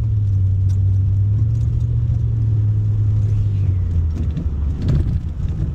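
A small car's engine hums steadily from inside the cabin as it accelerates, with a low continuous drone that shifts pitch near the end, plus faint rattles over the road rumble.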